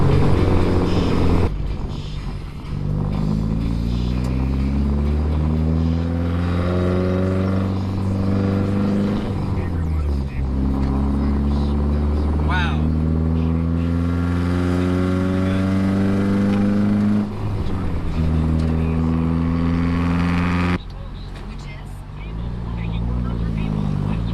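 A Datsun 510 with a new short shifter pulls onto the freeway, its engine droning and rising in pitch through several gear changes, loud and close from inside the car with brief pauses between shifts.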